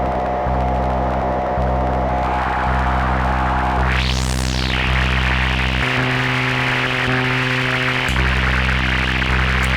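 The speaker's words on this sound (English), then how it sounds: "A reverb with a feedback path that can go pre or post filter, and this wasp-style bandpass filter." A loud, grainy synthesized drone through a reverb and a wasp-style bandpass filter, with a steady buzzing hum and hiss, a filtered sweep rising and falling midway, then a shift in tone.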